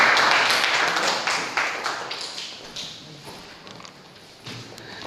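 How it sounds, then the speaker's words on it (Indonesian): Classroom applause, many hands clapping together in a dense, bright patter that is loudest at the start and gradually fades, with a brief swell near the end. "Tepuk tangan."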